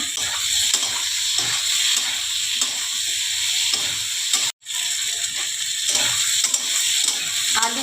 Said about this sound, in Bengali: টমেটোগুলো দিয়ে দিলাম।